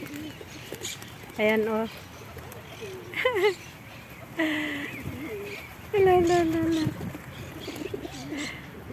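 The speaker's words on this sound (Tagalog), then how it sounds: "Tingnan niyo yung kalapati, oh, hinahawakan ko." Pigeons eating from a hand coo softly and close up, in short bursts mixed with a man's speech.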